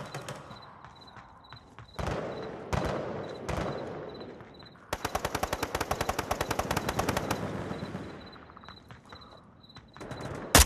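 Video game AK rifle fire in a gun game mode: a few separate loud shots, then a long rapid automatic burst of close, evenly spaced rounds, followed by scattered single shots.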